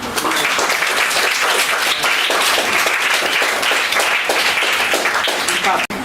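A group of parents and children clapping at a school parents' meeting, a dense, loud burst of applause that carries on steadily for several seconds before cutting off abruptly, with voices mixed in.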